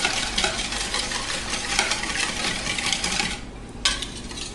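Eggs and cinnamon whisked in a bowl, a rapid scraping, clicking whisk rhythm close to the mic, steady for several seconds with a brief pause near the end.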